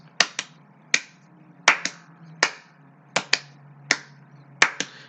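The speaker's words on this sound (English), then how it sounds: "Now double claps." Double hand claps in pairs, sharp close percussive hits repeating in a steady rhythm over a faint backing hum, with single claps between some pairs.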